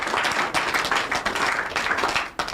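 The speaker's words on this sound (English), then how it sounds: "If you won't clap, we're going to clap." People in a TV studio clap together in brisk bursts, a close, busy patter of hands that briefly dips a couple of times before picking up again.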